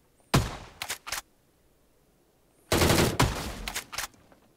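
Gunfire rings out in PUBG on the night-mode Erangel map in two clusters: a sharp burst of quick shots, then a longer, denser volley a couple of seconds later, loud and close against near silence.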